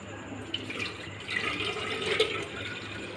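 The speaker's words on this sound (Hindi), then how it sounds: "सबसे पहले जो है हम इसमें दूध डालेंगे।" Milk pours into a blender jar for an Oreo milkshake, a continuous close splashing, gurgling stream lasting a few seconds with no talk.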